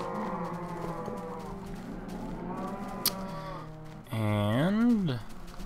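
A Minecraft cow lets out a loud, near moo with a rising-then-falling pitch near the end, following a stretch of quieter game sounds and background noise.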